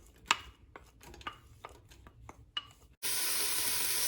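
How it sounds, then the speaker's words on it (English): Diced onions hit a semi-preheated pot on maximum heat and set off a loud, steady hiss that cuts in abruptly, after a few sharp knocks and taps of kitchen handling. "In a semi-preheated pot on maximum heat,"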